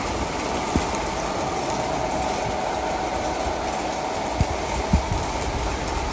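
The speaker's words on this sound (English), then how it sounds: "our Rock Island E8 is cooperating, so we can actually see the train go around" Steady rolling hum of a Rock Island E8 model locomotive running around its layout track, with a few faint clicks and no talking.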